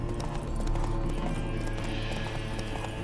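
Horse hooves clip-clop steadily while the horse neighs, in the video game The Witcher 3, the animal spooked by ghosts; loud and close, with continuous rhythmic hoofbeats.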